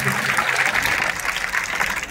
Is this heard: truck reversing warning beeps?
no